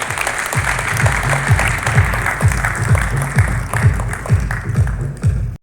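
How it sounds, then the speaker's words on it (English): An audience at a symposium claps steadily for several seconds, dense and fairly loud, with a few louder rhythmic claps standing out before it stops. "Mr. U. Vishwanathan, kindly give a round of applause, please."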